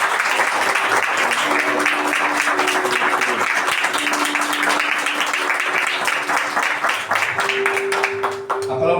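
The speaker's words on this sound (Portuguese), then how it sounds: "Um aplauso ao Senhor" Church congregation gives loud, sustained applause during a Portuguese-language worship service, dense clapping filling the room continuously with a few voices mixed in and a tone holding underneath.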